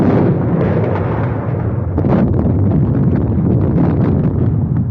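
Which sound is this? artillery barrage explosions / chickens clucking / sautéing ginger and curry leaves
artillery barrage explosions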